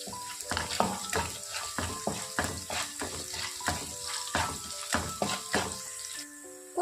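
Green chillies fry in hot oil with salt, giving a steady close sizzle broken by repeated scraping stir strokes of a spoon against the pan.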